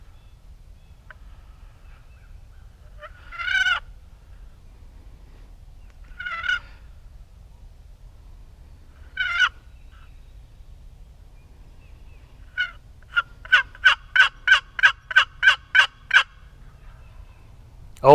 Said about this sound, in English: Always nice to hear those gobbles when you call.